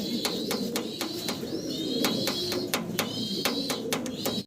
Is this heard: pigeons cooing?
yes